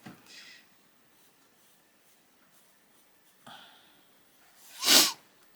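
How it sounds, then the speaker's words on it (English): Soft sniffs and breaths, then one sharp, loud sneeze close by near the end. "excuse me sniffing, I'm sorry, I had a sneeze"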